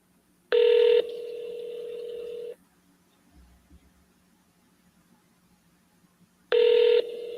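Landline keypad tones: two loud touch-tone bursts, each a short sharp beep flowing into a longer steady tone, separated by several seconds of near silence.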